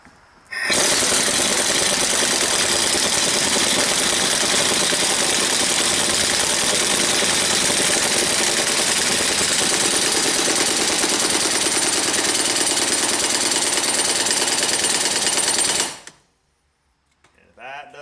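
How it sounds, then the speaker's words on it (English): Air impact wrench running on a nut on a Kubota MX5000 LA852 loader hydraulic cylinder during a rebuild, one loud continuous rattling hammer lasting about fifteen seconds, close up, then stopping abruptly. "Get your nut started. Get your impact ready to roll, and crank her on."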